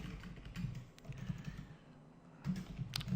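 Fingers type on a computer keyboard, producing irregular bursts of soft clicking keystrokes with short pauses between them, close and alone.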